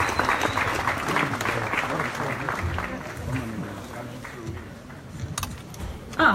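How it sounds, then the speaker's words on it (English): Audience applause in a hall at the Geneva International Motor Show, a steady patter of clapping from a large crowd that fades slightly before swelling again, with some voices mixed in. "can I have a round of applause"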